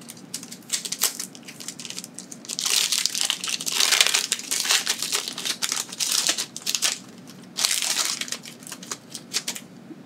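Crinkly plastic foil of a Pokémon TCG booster pack, Ruler of the Black Flame set, is torn and crumpled up close, with bursts of sharp crackling rustle rising and falling over about ten seconds.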